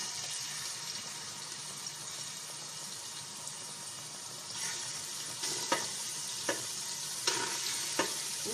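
Cuttlefish tentacles frying in a spoonful of oil in a cooking pot, a quiet steady sizzle with a few short stirring clatters and scrapes toward the end.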